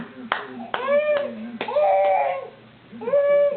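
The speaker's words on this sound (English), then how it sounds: "I think she's starting to clap her hands" A baby girl clapping her hands, a few soft uneven claps close by, mixed in with an adult's voice and the baby's own vocal sounds.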